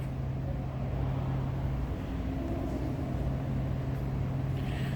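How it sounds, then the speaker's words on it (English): A 1939 Ford Deluxe Coupe street rod with Cherry Bomb exhaust idles steadily, giving a low, even rumble that holds at a moderate level without talk over it. "Cherry Bomb exhaust underneath this car, Cherry Bomb brand exhaust, sounds good."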